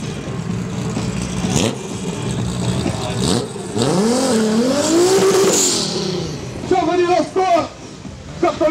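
A race car engine revs and accelerates loudly at a 2013 motor race in Arad, Romania, its pitch rising and falling, with a voice talking in Romanian over it throughout.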